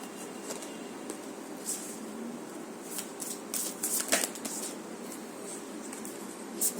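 Close, continuous rustle of tarot cards being shuffled by hand, with soft riffling flutters and a few sharper slaps of card against card, heard alone at moderate volume.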